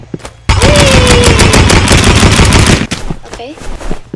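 Rapid paintball gun fire in the Roblox Rivals shooting range, a loud sustained burst of closely spaced shots lasting about two and a half seconds, followed by a few scattered sounds and a faint voice.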